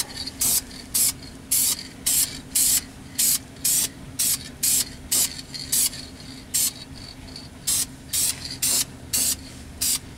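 An aerosol can sprays an anti-theft coating onto a Toyota Sequoia's catalytic converter in repeated short hissing bursts, close up, with a steady hum in the background.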